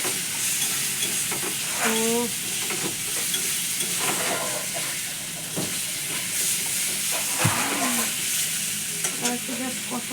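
Egg fries in a pan for an egg curry and is stirred with a spatula, a steady sizzle and hiss with scraping stirs, as a voice speaks briefly.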